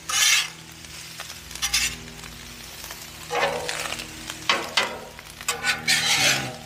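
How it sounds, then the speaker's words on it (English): Chicken fried rice stirred and scraped across a hot Blackstone griddle, with bursts of metal spatula scraping and sizzling over a steady low hum, close and moderately loud. "Mix the rice up a little bit."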